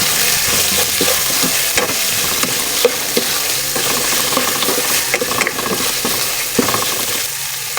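Meat seasoned with salt and pepper is stirred in a hot pan, with steady scraping and clattering strokes over a continuous loud sizzle, near and without voices.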